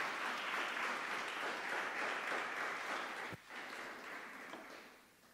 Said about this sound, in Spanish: démosle un fuerte aplauso a Él